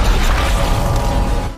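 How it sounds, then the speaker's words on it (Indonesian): A large explosion in a wooden hut, part of a film's sound effects, arrives as a loud, dense, rumbling blast that holds steady for over a second before dropping away. "akhirnya terjadi ledakan besar di gubuk tersebut"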